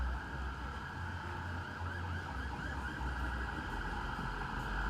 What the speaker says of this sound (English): listen to all those sirens